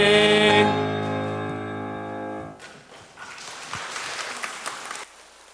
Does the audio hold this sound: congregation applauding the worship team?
yes